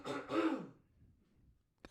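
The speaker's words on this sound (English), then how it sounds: "Let me clear my throat." A man clears his throat up close in two rough, raspy bursts, followed by quiet breathing and a short click at the end.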